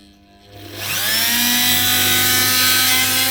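A Dremel rotary tool spins up from quiet into a loud, high whine as it cuts into a metal steering box part from an International 434 tractor, holding a steady grinding screech close by.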